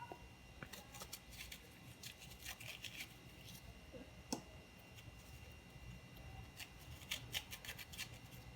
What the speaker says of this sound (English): Let's scrape that out.